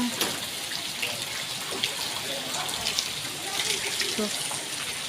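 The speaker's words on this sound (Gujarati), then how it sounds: "વરસાદ તો થઈ ગયો છે અમારે" Continuous patter of rain falling on surfaces, with scattered drips and a faint voice in the background.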